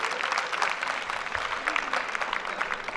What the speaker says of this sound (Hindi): एक जोरदार तालियों के साथ क्लैपिंग कीजिए।